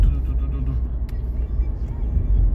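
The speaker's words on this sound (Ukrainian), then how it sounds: "Зараз даю газу, вона троїть." A Renault Megane 3 with the K4M engine, misfiring on one cylinder, runs with the throttle blipped: a near, uneven low engine rumble with lumpy, faltering pulses that holds steady for a few seconds, no talk over it.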